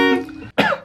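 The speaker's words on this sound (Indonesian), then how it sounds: "Pasti batuk." Two quick, rough coughs from a person with a sore throat, the first a longer harsh burst fading out, then a brief gap and a sharper, louder second cough, close and alone.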